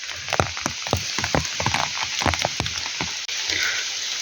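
Rain patters in a forest during wild white mushroom picking, with steady hiss and scattered close drops and crackles on leaves, loud and near, with no talk.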